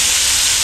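A ground ginger, garlic and onion paste hitting hot oil in a pan gives a loud, steady, bright sizzling hiss that fills the whole short moment, with no voices.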